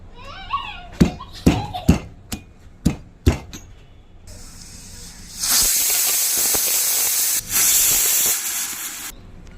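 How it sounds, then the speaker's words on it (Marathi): A pressure cooker cooking dal: several sharp knocks and short bursts come first, then a loud, sustained hiss of escaping steam, briefly interrupted and resuming even stronger before cutting off, heard up close with no talking. "कुकरच्या शिट्ट्या होत आहेत"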